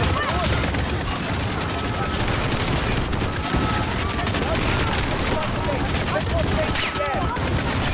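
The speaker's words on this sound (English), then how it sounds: "Someone's shooting from there." Dense, continuous gunfire from the video game Call of Duty: Modern Warfare 2019, rapid overlapping shots and bursts filling the whole stretch loudly, with voices talking under the firing.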